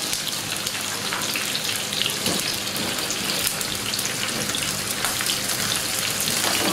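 Cabbage being dropped into a hot pan for a Tuscan side dish, giving a loud, steady sizzle and crackle that sounds close and continuous, much like heavy rain.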